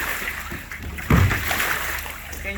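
A Hobie Passport 12 pedal kayak with Mirage Classic drive slaps and splashes on the water, one sharp splash midway through over a steady watery wash, with no talking.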